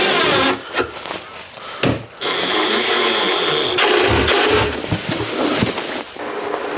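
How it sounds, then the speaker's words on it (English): Power driver running a screw into a metal drawer slide in a garage workshop miter saw station, a few short whirring bursts with pauses, close and fairly loud, mixed with some handling noise. "Then I'll drive the first screw into the front hole and snug it down."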